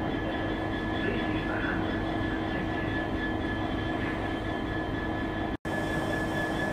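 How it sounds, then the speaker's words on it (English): At Westbury station a colourful train passes close by, producing a broad steady roar with humming tones that holds evenly, broken by a brief dropout near the end, no voices heard. "I do like this colourful train."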